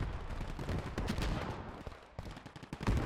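Rapid bursts of gunfire crackle alongside heavier booming blasts in a Gates of Hell video game battle, a dense, continuous battle din without any voices.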